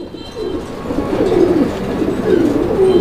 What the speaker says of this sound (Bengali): এখানে আরো একজোড়া বোম্বাই কবুতর আছে